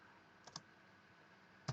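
A few sharp, quiet clicks of computer keyboard keys being typed, two quick taps and then a single tap after a pause, in a hushed room.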